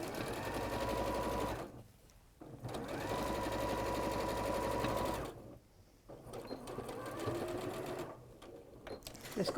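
A sewing machine stitching across a shoulder seam, running in steady buzzing bursts of about two seconds separated by short pauses, close and clear.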